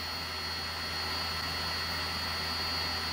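A 1500 W, 2 HP BLDC servo motor runs at 5,000 RPM during a thermal test, giving off a steady, even whine and whir with a constant tone and no talking.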